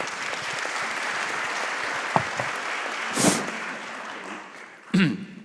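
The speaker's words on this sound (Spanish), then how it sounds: "Un aplauso para el doctor Richard Martin," Applause from a conference audience at a regulatory-policy congress, a steady moderate wash of clapping filling the room, with a couple of sharper knocks or bumps standing out near the end.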